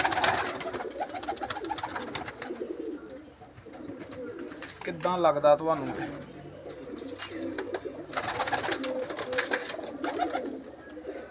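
Pigeons coo softly in a loft while someone talks over them, the birds' low calls breaking through in gaps between his speech, with a brief flutter of wings midway.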